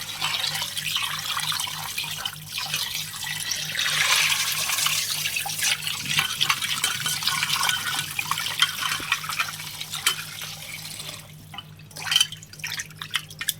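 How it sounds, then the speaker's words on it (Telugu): Raw chicken being washed in water for chicken pulusu, with continuous splashing, dripping and running water close by, a faint rhythmic hum underneath, and sharper splashes toward the end. "వాటర్లో బాగా క్లీన్ చేసుకోవాలి."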